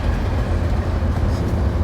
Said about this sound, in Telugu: ట్రైన్ అయితే వచ్చింది